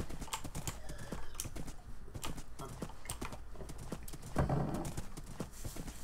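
A Minecraft horse wearing diamond armor clip-clops along at a fast pace, with steady rapid hoof clicks throughout and a brief neigh-like burst near the end, close and prominent.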